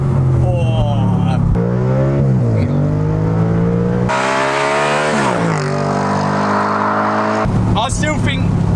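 Wrecked Audi RS5 fitted with an aftermarket exhaust, driven on the road, its engine revving up and down in repeated sweeping pulls with a loud, raspy exhaust note, close up and continuous.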